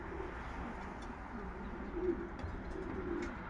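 Pigeons coo softly and repeatedly in a loft against a steady background hum, with no talking.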